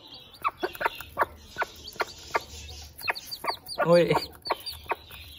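A mother Aseel hen clucks in short, repeated bursts beside her newly hatched chick, which peeps in a brief, high chirping run, with a voice heard briefly.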